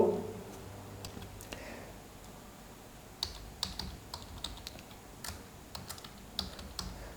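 Keys clatter on a computer keyboard as C code is typed, irregular clusters of crisp close clicks after a brief rustle at the start, with no talking.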